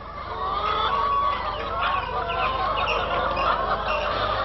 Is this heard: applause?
no